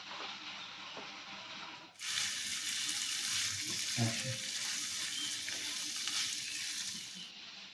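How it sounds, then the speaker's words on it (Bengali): Fried yam pieces drop into hot oil and spices in a pan, setting off a sudden loud sizzle that holds steady for several seconds, with a few light knocks of the pieces landing. "এবার ভেজে রাখা ওলগুলো আমি দিয়ে দিচ্ছি।"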